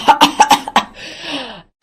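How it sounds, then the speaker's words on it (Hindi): A woman coughs several times in quick succession, close and sharp, followed by a breathy, strained exhale. "खांसते हुए कहती है"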